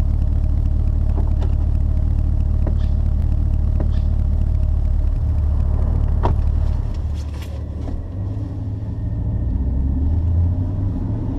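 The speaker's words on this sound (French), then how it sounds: "nous voilà au volant de la Corvette C8 tant attendue" Chevrolet Corvette C8 driving on the road, a steady loud low engine rumble with road noise and a few clattery knocks, the tone shifting partway through as the car changes pace.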